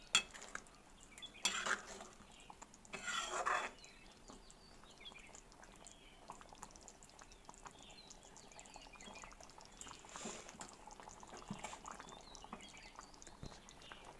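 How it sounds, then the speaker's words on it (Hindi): Creamy matar malai gets stirred in a pan, with faint scraping of a spoon against metal and a few brief clinks in a quiet kitchen, and no talking. "इसको हम मिक्स कर लेंगे अच्छे से।"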